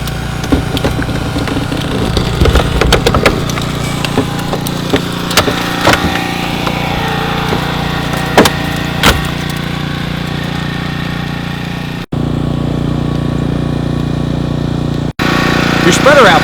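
A hydraulic rescue spreader opens with a steady mechanical drone from its power unit, with a few sharp cracks and creaks from the load, running continuously for about twelve seconds and then briefly cutting out; people speak over it.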